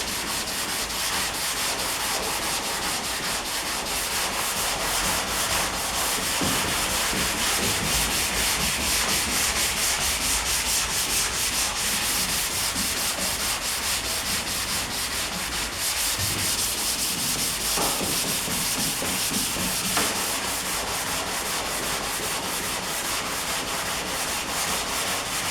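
Steady, continuous block sanding with 180 grit sandpaper makes a close, loud, unbroken abrasive rasp of even strokes that runs for the whole stretch with no talking.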